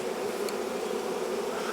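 Honeybees from a caught swarm being added to hive boxes hum in a steady, close, even drone, faint and unbroken, with no voices.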